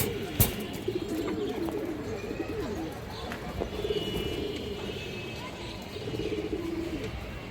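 Pigeons at a Bangladeshi pigeon seller's loft coo in soft repeated low calls throughout, with occasional chirps, one sharp knock near the start and a steady background murmur.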